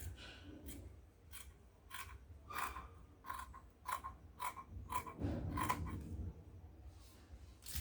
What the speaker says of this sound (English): Then I'm going to go ahead and cut this out.